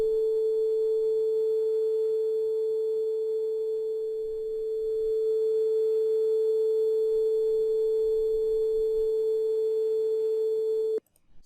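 Two steady tones interfere in a physics demonstration, producing one sustained pure hum whose level slowly dips soft and returns louder before cutting off abruptly at the end.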